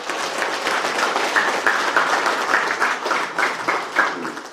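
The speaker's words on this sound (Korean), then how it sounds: "힘찬 박수로 모시겠습니다" A large audience at a commemorative symposium gives a sustained round of applause for an economist speaker, dense and steady clapping filling the hall without talk.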